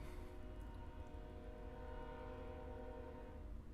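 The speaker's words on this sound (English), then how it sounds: "So far, the fucking train" A passing train, loud and close, rumbles steadily throughout with sustained horn-like tonal drones layered over the low rolling noise of the cars.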